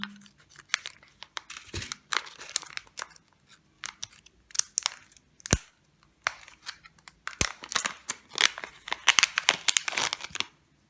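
A plastic package of beads is torn open by hand, giving bursts of sharp crinkling, tearing and rustling at close range that come and go in uneven clusters.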